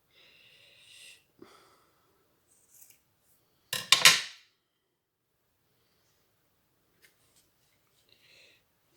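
Scissors cut through a Christmas card in a short, crisp burst of snipping near the middle, with faint handling rustles before and after in an otherwise quiet room.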